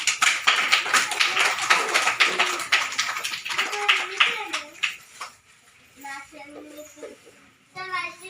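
A crowd of children claps in a dense burst for prize winners at a school national flag-hoisting event in Medak district. The clapping fades after a few seconds, leaving voices talking.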